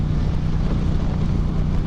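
Steady, loud wind rush buffets the microphone with a deep rumble throughout, no voices, like riding at speed on an open Yamaha FZ-07 motorcycle fitted with a windscreen.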